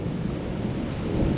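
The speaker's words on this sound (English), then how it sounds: "the rain is starting." A thunderstorm over Northwest Indiana as rain begins: a steady, dense wash of rain noise with a low rumbling thunder beneath it, continuous and fairly loud throughout.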